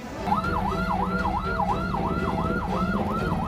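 An ambulance carrying a patient stuck in a traffic jam, its siren loud and near with a fast regular wailing sweep over a steady rumble of road traffic.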